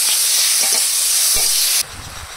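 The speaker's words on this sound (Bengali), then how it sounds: "ঝোল ফুটে উঠেছে।" Curry broth for a shukto with garden greens and brinjal boils in a pan, giving a loud, steady, close bubbling hiss that drops abruptly to a quieter simmer near the end.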